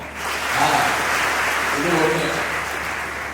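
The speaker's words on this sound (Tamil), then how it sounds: "நல்ல கைதட்டுக்கு பார்ப்போம்" Audience clapping during a Tamil humorous motivational talk, a steady, fairly loud burst of many hands that swells and holds for a few seconds, with faint voices mixed in.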